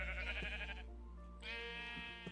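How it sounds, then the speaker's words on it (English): Two bleats from a Minecraft sheep, each a nasal, wavering cry lasting under a second, separated by a short gap, close and clear over a low steady hum, with no talk. "And now, you can make some more sheep."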